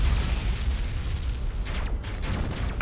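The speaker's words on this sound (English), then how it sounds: "And we're about to explode a ship." A starship blows up in the space strategy game Battlefleet Gothic Armada, producing a deep, rolling explosion rumble that holds steady for a few seconds with no talk over it.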